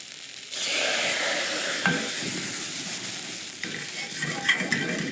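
Brandy poured over toasted prawn heads in a hot pan, a steady loud sizzle and whoosh of flambéing with some stirring and a few pan knocks.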